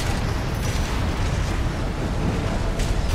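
A dense, continuous barrage of missile explosions roars in Armored Core VI, loud overlapping booms and rumble blurring into a steady wall of noise throughout.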